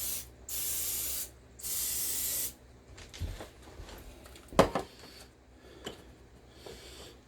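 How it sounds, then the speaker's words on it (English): Vegetable oil cooking spray coats the inside of a glass mold in two steady hissing bursts about a second each, followed by quieter clinks and handling knocks. "I'm going to coat it with some vegetable oil cooking spray on the inside."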